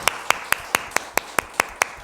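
Congregation in a Korean church service clapping in a steady, even rhythm, about four claps per second, each sharp and distinct, close and fairly loud with no talk over it.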